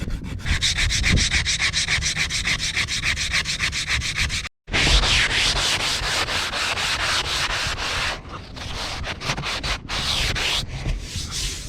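Sandpaper is rubbed by hand across the wooden hull of a boat under restoration, a loud, close, steady scratchy rasp in quick back-and-forth strokes with one brief pause and a few short breaks near the end.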